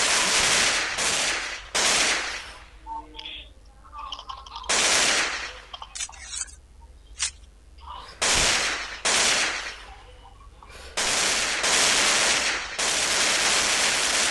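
Bursts of gunfire from the zombie shooter game Zombie Strike, a shotgun among the weapons, loud, in separate volleys of one to two seconds with short quieter gaps between them.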